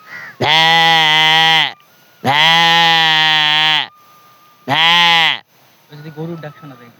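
A man imitates a sheep's bleat, giving three loud, drawn-out, nasal bleats one after another at close range, followed by a short burst of speech.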